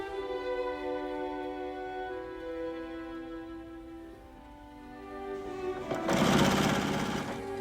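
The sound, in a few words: sewing machine stitching quilt fabric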